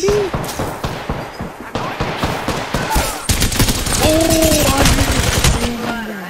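A video game firefight with bursts of rapid gunfire cracking close and loud, volley after volley with little pause. A player's excited voice shouts over the shooting.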